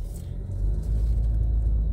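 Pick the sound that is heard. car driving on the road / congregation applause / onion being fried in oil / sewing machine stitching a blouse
car driving on the road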